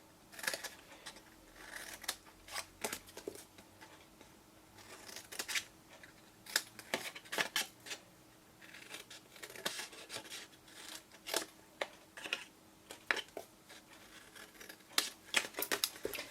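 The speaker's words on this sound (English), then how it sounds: "Bring in your longer scissors." Scissors snip through card for a slimline fold-flat box, a series of sharp, close cuts in irregular bursts with quiet pauses between them.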